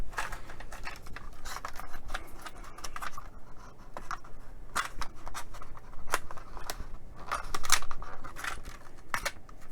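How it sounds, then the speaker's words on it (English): Someone struggles with a plastic packet of 30 cutting discs, producing a steady stream of close crinkling, rustling and sharp crackles that runs without pause, with louder bursts of scrunching in places. "it's bad news when you can't get stuff out of the packet, isn't it?"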